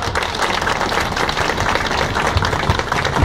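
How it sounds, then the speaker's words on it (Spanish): A neighbourhood crowd applauds a deputy at a local gathering, with steady dense clapping that continues at even loudness throughout, without speech over it. "les pido, por favor, un fuerte aplauso para el diputado Gerardo Villanueva Alvarado."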